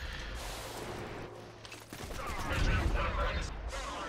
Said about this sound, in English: Machine gun I got fires as fast as... See the numbers, pull the trigger.